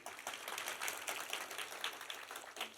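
Applause from a church congregation, a dense, steady patter of clapping hands that fills the whole stretch at a moderate distance, with no voices standing out.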